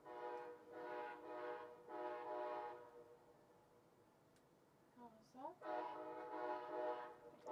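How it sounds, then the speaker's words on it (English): A train horn sounds through a small handheld receiver in several long tonal blasts separated by pauses, with a short spoken question between them. "That's train sound."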